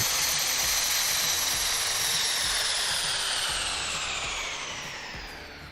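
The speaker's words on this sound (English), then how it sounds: "Love to hear the engine spool down on this" Airbus A330-900 jet engine spooling down after parking in Microsoft Flight Simulator 2020, a loud broadband whine with falling high-pitched tones that slowly fade over several seconds.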